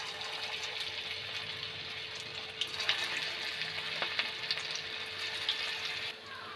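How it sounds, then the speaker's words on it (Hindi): Bread Manchurian balls deep-fry in hot oil with a dense, bubbling hiss and scattered small pops, steady throughout before easing slightly near the end; no speech. "इहा छिन चलो इटा के आमे गरम तेल थी टिके छानी दमा।"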